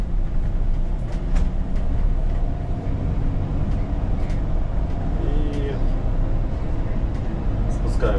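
A bus descending a hill on a city route rumbles steadily with low droning engine and automatic retarder braking noise, someone speaking briefly over it.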